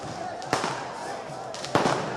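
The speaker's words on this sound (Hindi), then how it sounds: "पटाखे बज रहे हैं सौरभ के पीछे" Firecrackers go off in Kolkata during an election victory celebration, with two sharp cracks about a second apart over continuous background noise and talking voices.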